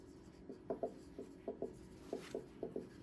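Writing on a board or page during a maths lesson, a run of short scratchy strokes in uneven clusters, faint and close over a quiet room hiss, with no talking.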